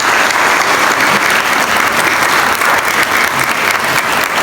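A crowd at a college annual investiture ceremony breaks into loud, sustained applause, a thick and even roar of clapping with no break.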